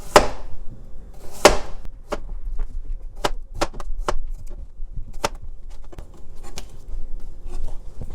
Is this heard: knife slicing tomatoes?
yes